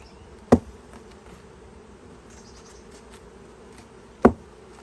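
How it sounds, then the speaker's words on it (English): Honey bees hum in a low, steady drone around an open beehive during an inspection, the buzz continuous and moderately close, broken by two sharp knocks from handling the hive. "Leave a little bit of an opening so the bees can get in."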